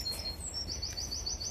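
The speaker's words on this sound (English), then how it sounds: "Ooh, can you hear that bird call?" Bird calling on a nature walk in York, a thin repeated chirping phrase of several quick notes, fairly faint and distant over soft outdoor background noise, with no voices.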